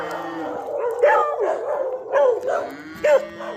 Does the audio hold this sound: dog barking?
yes